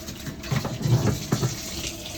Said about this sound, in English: And then you'll see also that this water is going through.